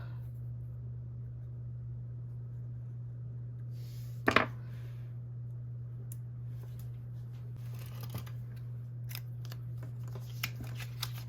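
Scissors snip through a printed planner page, a few crisp cuts spread across a quiet room with a steady low hum underneath; one sharper cut stands out near the middle, followed by lighter paper handling.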